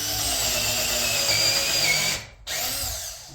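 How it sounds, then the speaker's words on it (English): A power drill bores about half an inch down into timber for a rolling shop cart, whining loudly and steadily before briefly cutting out and starting again. "We drill down about a"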